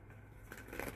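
A deck of tarot cards gets one more quick shuffle, a soft, faint riffle of a couple of brief papery bursts over a low steady hum.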